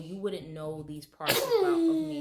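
One sharp sneeze bursts out midway through a woman's speech at home, loud and close, with her talking resuming right after it.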